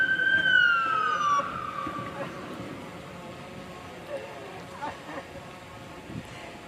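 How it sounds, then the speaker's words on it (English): A St. Tammany Parish Fire Rescue siren wails in the distance at a mock crash scene, its pitch sliding down and fading, over a steady low rumble and faint background noise. "Aubrey to the St. Tammany Parish Jail, you can hear the sirens of the St. Tammany Parish Fire Rescue Unit in the distance."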